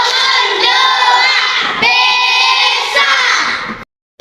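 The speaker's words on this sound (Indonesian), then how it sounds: "marilah kita tepuk yel-yel" Schoolchildren at an Indonesian elementary school shouting a rhythmic clapping cheer in unison, loud and close, with bursts of voices and claps over about four seconds before stopping abruptly.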